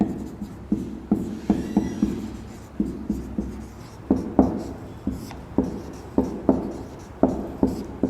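Pen or chalk writing out a definition during a Hindi literature class, heard as a steady series of short scratching strokes in quick rhythmic bursts, close and fairly clear, with no talking over them.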